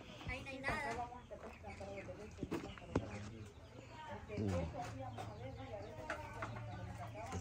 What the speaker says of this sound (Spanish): Miren, una pequeña granjita de pollos, miren.